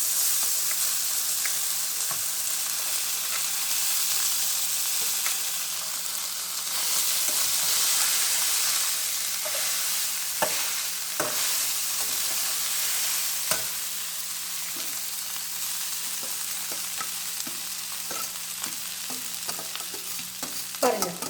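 Cooked rice is stirred through hot oil seasoned with a little asafoetida in a pan for mango rice, giving a steady soft sizzle with intermittent scraping and clinking from the spoon, close and continuous.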